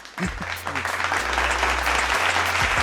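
Audience clapping for a birthday, a brisk patter of hands building quickly and continuing steadily under a low hum.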